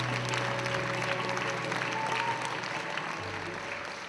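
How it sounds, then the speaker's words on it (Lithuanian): Enthusiastic applause fills a Mrs Lithuania event hall in Chicago: a dense, steady crowd clapping that stays loud and even for a few seconds. "Audringas aplodismentas finalui jūs pasitiksite mūsų renginio dalyves."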